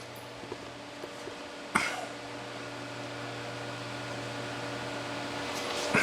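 A TIG welding arc on a first pass over cast aluminum gives a steady, even buzzing hiss, with one sharp click early on before the tone holds constant at a moderate level.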